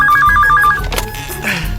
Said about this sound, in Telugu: ఫోన్ వస్తుందండి.